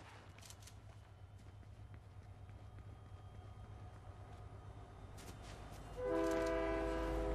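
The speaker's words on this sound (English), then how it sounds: "here comes a train." A video game train rumbles in low and faint, then a loud horn with layered tones blasts as it arrives near the end.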